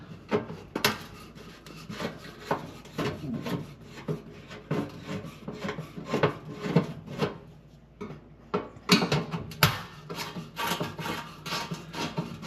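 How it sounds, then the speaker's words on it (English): Two Phillips screws being unscrewed from the panel of an electric fan oven, giving a steady run of close, dry rubbing and rasping scrapes with short metallic clicks and brief pauses, no voices. "There is 2 screws to remove the panel."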